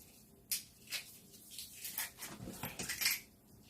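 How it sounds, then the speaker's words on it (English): Garlic crushed for homemade garlic-flavoured potato chips, a series of sharp close knocks and crunching taps in an irregular rhythm, fairly quiet, no talking. "So let me crush my garlic and put it in my chips."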